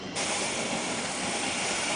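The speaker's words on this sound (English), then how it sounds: "The steam basically makes the hat soften" Sharp onset of loud, continuous steam hiss from a hat blocking press, sustained and close with a broad rushing texture.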